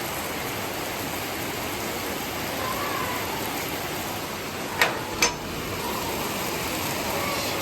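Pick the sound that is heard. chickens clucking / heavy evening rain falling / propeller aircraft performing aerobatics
heavy evening rain falling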